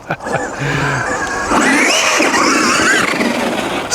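The electric motor of a Traxxas Funco RC sand car whines loudly and close, rising and falling in pitch as the throttle surges on sand, with the strained tone climbing into a sustained high rev.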